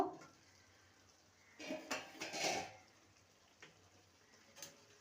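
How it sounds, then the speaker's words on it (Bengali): Lid lifted off a pan of cooking bitter gourd and vegetables, a few close metallic clanks and scrapes clustered together, then quieter taps. "ঢাকনাটা খুলে দেখে নেব"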